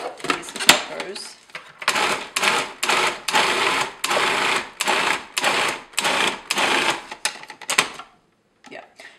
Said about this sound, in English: I'm just going to pulse in these peppers.